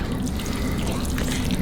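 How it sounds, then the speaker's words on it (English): Shrimp creole is stirred in a pot, with continuous wet, thick swishing and soft dripping sounds heard close up and no speech. "we're gonna stir that in"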